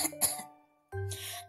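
Two short bursts of coughing separated by a brief pause, close and fairly loud.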